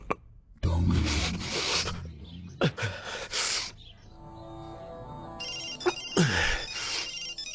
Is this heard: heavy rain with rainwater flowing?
no